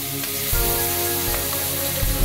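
Diced square pieces of capsicum fry with whole cumin in a hot pan, giving a loud, steady sizzle with brief stirring bumps, close up and without talk.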